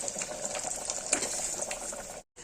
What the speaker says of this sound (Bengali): এবার ইলিশ মাছটা ভেজে নিচ্ছি